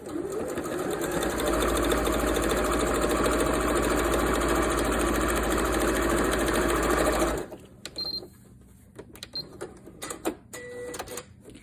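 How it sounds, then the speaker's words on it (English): A sewing machine runs a steady top stitch along the edge of a fabric tissue holder, a loud continuous whirring motor for several seconds, then stopping and giving way to light clicks and handling of the fabric. "I'm gonna do a top stitch just right here and on that other end."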